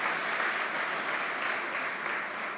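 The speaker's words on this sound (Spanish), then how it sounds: "demos la bienvenida con un aplauso" Congregation applauding to welcome visiting sisters at a church in Pereira, a dense, even wash of clapping that holds steady throughout without voices.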